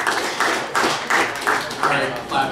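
One audience member claps alone at a stand-up comedy show in a restaurant venue, giving about seven evenly spaced, fairly loud claps in a steady rhythm with no other crowd noise.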